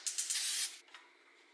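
Cooking spray hissing onto tortillas from an aerosol can: a few quick short bursts, then a steady spray for about half a second, close and bright, followed by quiet.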